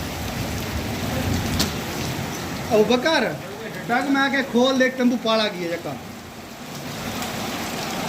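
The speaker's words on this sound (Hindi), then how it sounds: "बारिश की बहुत ज़्यादा बारिश हो रही है" Heavy rain pours steadily on a village and a tent, a continuous close hiss, while someone talks loudly over it for several seconds.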